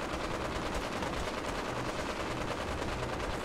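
Sustained dense gunfire in the video game Fallout 4 during the Battle of Bunker Hill, a continuous loud rattle of rapid shots filling the whole stretch with no talking.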